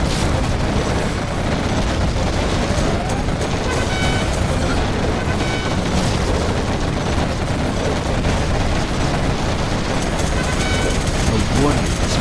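Quad cannon fire in the real-time strategy game Command & Conquer: Generals – Zero Hour, a dense, continuous clatter of rapid gunfire and booms from a large battle, loud throughout, with unit voices mixed in.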